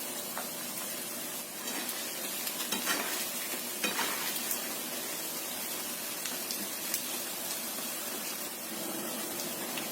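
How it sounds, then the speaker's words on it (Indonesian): Food frying in hot oil in a home kitchen, a continuous crackling sizzle with sharp spits and pops as the pieces are stirred and turned over, close and steady throughout without speech. "Goreng sampai kuning keemasan, semuanya wajar aja gorengnya."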